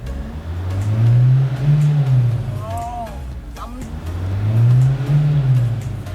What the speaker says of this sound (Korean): 뭐 엔진 소리 한번 들어볼까요?